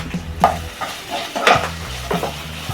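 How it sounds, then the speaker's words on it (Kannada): Onion, fresh ginger, garlic and green chili frying in a pan for mutton curry, a soft sizzle broken by several scraping stirs and clinks of a spatula against the metal, close and without talk. "ಇದೇ ಪ್ಯಾನಿಗೆ ಈರುಳ್ಳಿ ಹಸಿ ಶುಂಠಿ ಬೆಳ್ಳುಳ್ಳಿ ಹಸಿ ಮೆಣಸಿನ್ಕಾಯಿ ಹಾಕೊಂಡು ಫ್ರೈ ಮಾಡ್ಕೋಬೇಕು"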